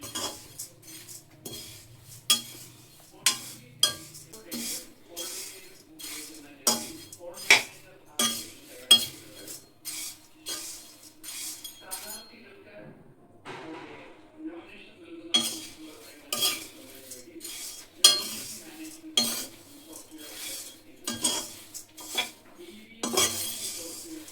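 Flattened rice (aval) is dry-roasted in a pan with a metal spoon, giving steady repeated scraping and clinking strokes at a close, moderate level. A short quieter stretch falls midway, and there is no talking.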